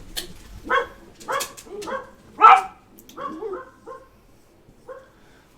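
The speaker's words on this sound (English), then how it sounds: "dog's doing the bark" A dog barks about eight times in an uneven series, the middle bark loudest, and later barks trail off fainter, with no talk over it.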